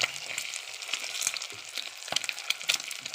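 Mackerel frying in hot oil, a steady crackling sizzle with bursts of sharper pops, close and alone with no talk.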